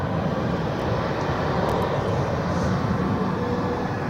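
Airliner jet engines roar at Barcelona airport during departures, a loud, steady, broadband rumble with a hiss on top, heard alone with no talking.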